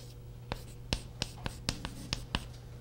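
A marker sketches a vector on a board during a calculus lesson, giving about ten quick, close scratchy strokes in an irregular rhythm, with no one talking.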